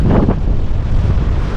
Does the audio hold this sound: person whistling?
no